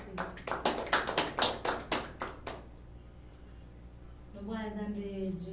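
Children's-corner audience applauding after a young girl recites a poem: a brisk burst of clapping for about two and a half seconds, then quiet room tone before a voice begins speaking.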